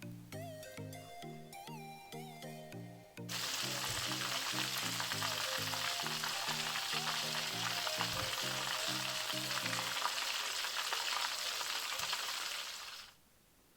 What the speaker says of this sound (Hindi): इसको 15 से 17 मिनट तक नाइसली गोल्डन ब्राउन होने तक तलना है